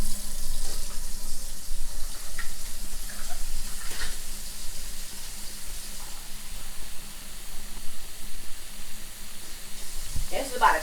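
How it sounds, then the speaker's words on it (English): Water being poured into a pan of flour and onions for jerk turkey gravy, a steady running-water hiss with faint sizzling throughout, close and fairly loud. "We're going to add some water to that."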